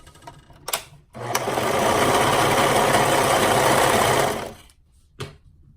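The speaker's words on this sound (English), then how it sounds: "fold your neck band in half and stitch the short ends to create a loop." A sewing machine stitches the short ends of a folded knit neckband into a loop, one steady whirring run of about three seconds framed by a few sharp clicks and thumps before and after.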